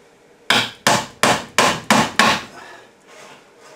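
Six quick, evenly spaced hammer strikes drive small nails into wood, loud and close, then fading into faint scraping and rustling.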